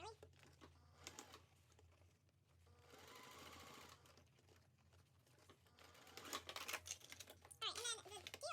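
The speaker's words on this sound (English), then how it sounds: "I am going to sew right here a 1/2 inch all the way across" A sewing machine stitches a half-inch seam across a backpack's gusset or bottom panel, running in close, steady bursts separated by short pauses, with a voice talking at times.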